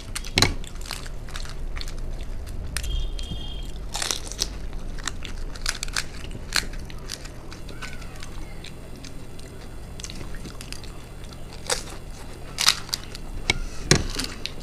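Crunchy bites and wet chewing of spicy fuchka (panipuri) with dahi, heard close up, with repeated sharp crunches scattered over a steady munching sound and no talking.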